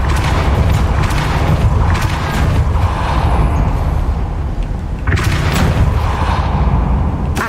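Depulso spell effect in the Hogwarts Legacy video game, a loud heavy rumbling boom with mechanical grinding, followed by a second forceful blast around the midpoint.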